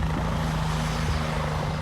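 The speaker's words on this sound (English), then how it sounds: "a video showing a helicopter flying in supplies" A helicopter flying in supplies after Hurricane Helene, its rotor and engine making a steady, droning thrum with a low tonal hum that continues without a break.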